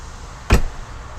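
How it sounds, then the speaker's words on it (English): A single short thud of an RV door shutting after a new lock was fitted, heard once over steady background noise. "Make sure the door shuts."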